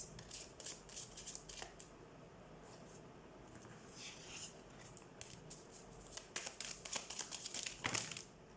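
Tarot cards shuffled close by, with rapid papery riffles and flicks that come in clustered bursts over faint background hiss and grow busier toward the end.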